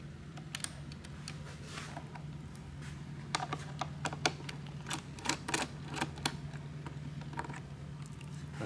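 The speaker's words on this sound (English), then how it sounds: "this is done by unscrewing these 2 screws from the side." Small screws are worked loose from the side of a 2008-2011 Honda CBR 1000RR taillight unit, giving a run of quick, light ticking and clicking sounds over a low steady hum, with no talking.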